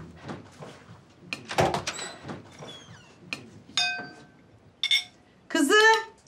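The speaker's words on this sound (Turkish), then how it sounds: "Hadi bak, aç kapıyı." An indoor door is opened in a dramatic scene, giving a few short knocks and rattling clicks scattered among voices, with a brighter clatter near the end.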